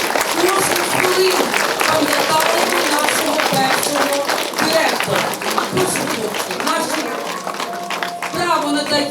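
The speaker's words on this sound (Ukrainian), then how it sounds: "Зараз під ваші бурхливі оплески" Stormy applause from students, teachers and guests at a school lyceum ceremony, dense clapping throughout, overlapping with voices and a sound system.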